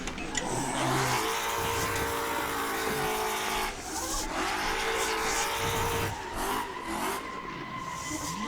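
Car drifting in a racing video game with the wrong car for drifting, engine revving continuously with tire squeal, loud and close, the engine note dipping and rising again a few times.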